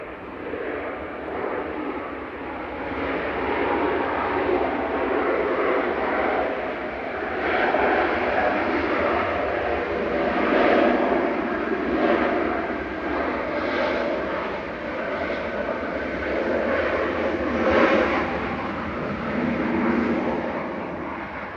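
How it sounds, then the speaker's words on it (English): A TUI Boeing 737-800 airliner, flight 2469 in from Lanzarote, comes in to land at Manchester Airport with a moderate, sustained jet rumble and engine whine that swells and eases gently, heard alone at some distance. "Tui's coming in from Lanzarote with flight 2469 now"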